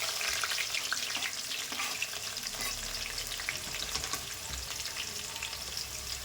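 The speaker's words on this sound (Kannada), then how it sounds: "ಸ್ವಲ್ಪ ಈರುಳ್ಳಿ, ಕರಿಬೇವು, ಆನಂತರ ಹಸಿಮೆಣಸಿನಕಾಯಿ ಒಂದು 4 ಹಾಕೋಣ. ಇದು ಚೆನ್ನಾಗಿ ಫ್ರೈ ಆಗಬೇಕು." Onions, curry leaves and green chilies fry in a pan for chicken masala, a continuous bright sizzle with soft stirring noises, steady and fairly close, with no talking.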